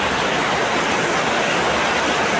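Rain pours down steadily, a loud, dense, even hiss of falling water filling the whole stretch without breaks.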